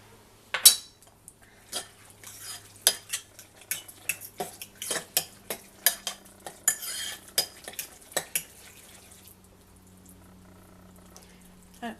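A spoon stirs curry paste into a spoonful of olive oil, scraping and clinking against a pot in a steady run of sharp taps, close and fairly loud, fading to quiet near the end.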